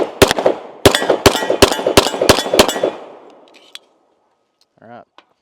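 Seven sharp, loud pistol shots from an Atlas Titan RDS 2011 handgun on an outdoor range, fired in a fairly even cadence with ringing decay, followed by quiet and a brief distant voice.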